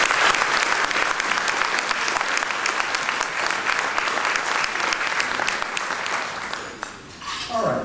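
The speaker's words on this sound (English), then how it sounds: "IFI deserves a round of applause" An audience at a ceremony honoring father figures and essayists gives a long, full round of applause, dense and sustained before it thins and a voice begins speaking at the very end.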